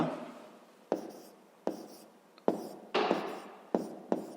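Handwriting on paper while working a fifth-grade math exercise: soft scratchy pen strokes punctuated by about seven sharp taps as the pen meets the page, close and quiet with no speech.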